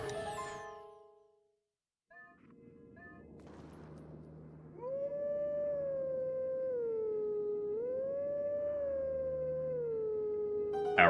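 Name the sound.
Wolf Link howling in Twilight Princess video game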